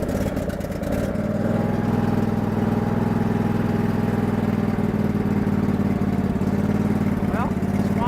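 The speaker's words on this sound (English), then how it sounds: "This is a cold start." Craftsman DLT lawn tractor engine, nicknamed Swamp Thing, started cold with a little gas and choke: a brief rough crank, then a steady, loud, close low idle hum that holds on evenly.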